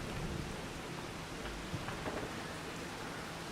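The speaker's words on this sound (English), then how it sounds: "we can't do any harvesting yet because it's raining" Steady rain in the Farm Sim 25 farming game hisses as an even, dense wash with a faint low rumble of thunder partway through and no voices.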